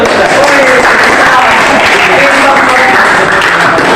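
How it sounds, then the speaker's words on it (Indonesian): A class of students in an Indonesian teacher-training lesson applauds together, a dense, steady wash of clapping that stays loud for the full few seconds, with a voice faintly mixed in. "Iya, tepuk tangan dulu."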